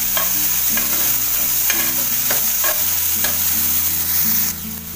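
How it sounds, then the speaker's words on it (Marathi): Mushrooms fry in hot oil with a strong, close sizzle as a utensil stirs them in quick repeated scrapes and knocks against the pan, easing off slightly at the end, with no speech. "अळंबी एवढी दिसते पण ती एकदम कमी होणार. डायरेक्ट तेलात टाकते"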